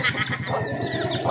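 Chickens clucking and murmuring close by, a steady busy flock sound with overlapping short calls and no talking.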